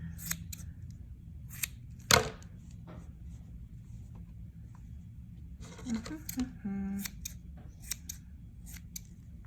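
Scissors trim a yarn pom-pom bunny finger puppet with quick, crisp snips scattered across the clip, one louder cut standing out. A brief bit of speech occurs near the end.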